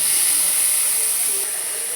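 Tomatoes added to a hot pan for prawn biryani, giving a loud, continuous bright hiss at close range that fades slightly toward the end.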